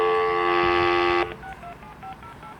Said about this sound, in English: You should have heard it dialing.